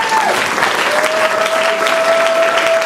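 A church congregation applauding during worship: steady, dense clapping from a large crowd throughout, loud and close, with a sustained tone from music or a microphone underneath.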